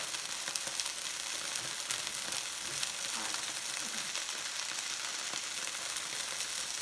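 Dumplings fry in hot oil with a dense, steady sizzle and crackle that stays loud and close from start to finish.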